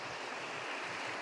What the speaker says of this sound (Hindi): पानी चल रहा है, पानी की आवाज़ आ रही है बहुत तेज़